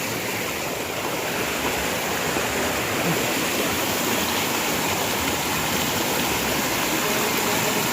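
Loud, steady roar of rushing floodwater after a typhoon, a powerful foaming torrent churning continuously at close range with no pauses.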